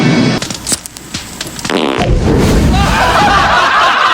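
Fart sound effect, a short blaring raspy burst that stretches into a longer rumbling, sputtering tail, loud and close with no talking over it.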